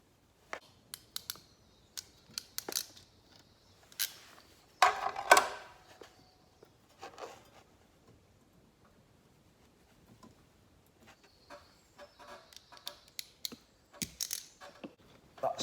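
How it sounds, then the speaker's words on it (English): A ratchet crimping tool squeezes connectors onto wiring while a fan kit is installed in a caravan fridge vent, giving scattered sharp mechanical clicks and ratcheting bursts, close and fairly quiet, with pauses between crimps. "Just going to use my ratchet crimping tool."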